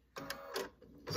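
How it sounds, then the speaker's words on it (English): Sewing machine stitching binding along the scalloped curved edge of a quilt, short bursts of fast mechanical needle clatter with brief pauses between them, close and fairly quiet. "So I'm gonna put it back under the sewing machine and at the very edge,"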